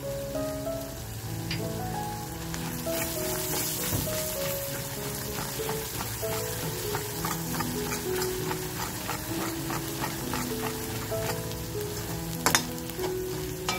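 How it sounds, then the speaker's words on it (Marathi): Masala and onion sautéing in a pan for a village-style spicy dried fish dish, a steady close sizzle and crackle running throughout with faint stirring, no talk over it. "मसाला खमंग आपल्याला या कांद्याबरोबर आहे ना परतवून घ्यायचंय"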